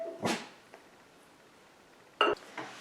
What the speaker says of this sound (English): I had a dog chasing a bird making all kinds of noise.